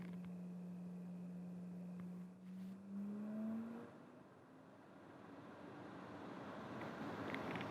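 A Stadler Form Roger HEPA air purifier runs at speed 4, its fan whooshing steadily while a rising motor tone climbs early on as the speed ramps up; fairly quiet and alone.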